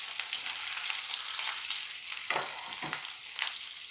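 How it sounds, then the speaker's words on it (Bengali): Chopped onions, about 250 grams, sizzle steadily in hot oil, a dense close hiss with a few soft stirring scrapes rising through it. "250 গ্রাম পেঁয়াজ কুচি কুচি করে কাটা আছে, এর মধ্যে বেশিরভাগটা তেলে দিয়ে দিলাম।"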